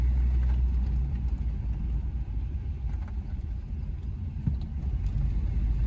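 A Vauxhall Velox with a column gear change cruises in top gear, its engine a low, steady rumble with soft road noise and no voices.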